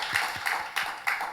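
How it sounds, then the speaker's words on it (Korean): Scattered applause from a church congregation in Auckland during a Sunday worship service, a few separated bursts of claps at moderate distance with no talking. "우리 살아계신 하나님께 영광의 박수 올려드리겠습니다"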